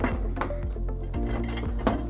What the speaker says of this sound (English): after pre-washing your cutlery, crockery, you would place it into your dishwasher